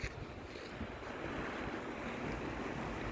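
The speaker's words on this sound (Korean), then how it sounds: "파도에 배가 넘실넘실 거리고 있습니다" Sea waves wash and surge continuously on the Seosan-Taean coast of Korea, rocking a boat, mixed with steady cold wind rushing across the microphone; no voices.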